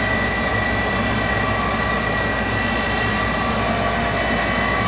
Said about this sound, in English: Yeah, it's making a nice grind.